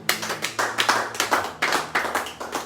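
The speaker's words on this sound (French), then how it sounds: "On peut acclamer." A congregation at a French-language church service claps together in a steady, even rhythm, loud and close, with no speech over it.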